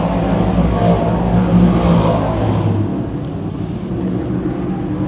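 Race cars in a heat at Can Am Speedway roar through the turns, a loud sustained engine rumble that swells and then slowly fades as the pack pulls away, no voices.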